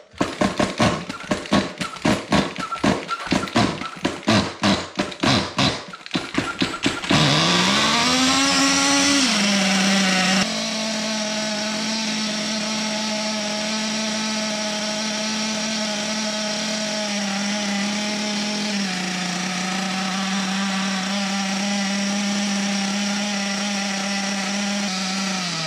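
A Kyosho MP9 TKI4 RC buggy's Picco nitro engine with a turbo glow plug is cranked with rapid rattling bursts from a starter box, then fires and screams into a loud, steady high-pitched idle, close up.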